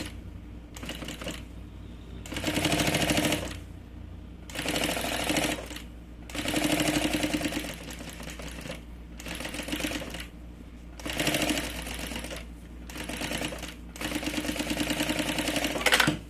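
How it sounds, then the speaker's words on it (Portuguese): A sewing machine stitches along the edge of a fabric pencil case in repeated bursts of rapid mechanical whirring, each lasting one to two seconds with short pauses between, close and clear. "Mas só uma costurinha na beiradinha para segurar tudo isso."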